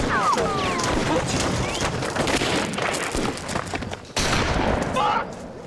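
A rapid volley of gunshots in a Trailer Park Boys TV scene, dense crackling bursts that stop briefly and then resume, with shouting voices mixed in.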